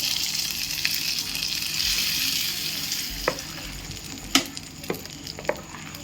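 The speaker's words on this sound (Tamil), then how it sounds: "இப்போ நம்ம தாளிச்சதை இதில் கொட்டிக்கலாம்." Hot tempering for banana stem dosa batter hisses and sizzles steadily as it is poured in, a soft continuous fry with a few small clicks and pops, fairly quiet and close, no voices.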